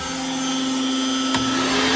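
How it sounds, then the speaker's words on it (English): A CNC router spindle on an X-Carve runs at a steady high-pitched whine with a constant motor hum, a brief click partway through. "I'm going to turn on the spindle. Spindle is on."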